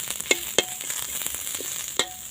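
Shallots and garlic fry in a pan, a steady close sizzle broken by a few sharp scrapes and clinks of stirring, with nobody talking.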